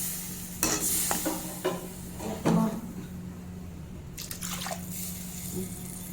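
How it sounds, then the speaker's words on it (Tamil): Water poured into a cooking pan of egg kurma masala with chilli and turmeric powder, giving bursts of splashing and sizzling with some stirring and clinking in a home kitchen. "2 டம்ளர் தண்ணி ஆட் பண்ணிக்கலாம்."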